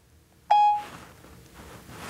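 A phone notification beep for a received message: a single short, clear electronic tone, loud and close, followed by quiet room sound.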